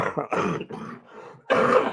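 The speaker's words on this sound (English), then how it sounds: "speaking of distractions, all that coughing." A person coughs and clears their throat in a short series of harsh bursts, close to the microphone, ending with one louder hack.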